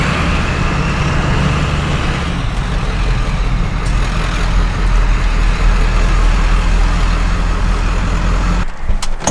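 An OBS Ford truck's diesel engine drones low and steady from inside the cab while driving, a faint high turbo whistle riding over the rumble, with road noise throughout and a brief dip near the end.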